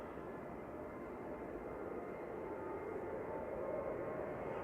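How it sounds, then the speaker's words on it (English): A Ryanair airliner departs Manchester Airport, heard as a steady, distant broadband engine roar that holds constant and swells slightly toward the end, with no voices over it. "Ryanair departing to Paris Beauvais now, flight 3724 EIENW."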